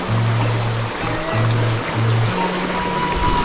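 River water runs steadily along the bank at a village fishing spot, a continuous broadband rush with a low, steady hum beneath it.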